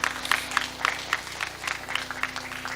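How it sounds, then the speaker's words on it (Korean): A congregation at a Christmas church service claps together in a brief burst of rhythmic applause, moderately loud, over a low steady hum. "박수 한번 쳐줘봐요."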